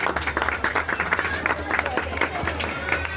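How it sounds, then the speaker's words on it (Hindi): A crowd at a cultural event applauds steadily for a bouquet presentation, dense clapping sustained throughout over a low amplified hum and some background chatter. "एक जोरदार ताली"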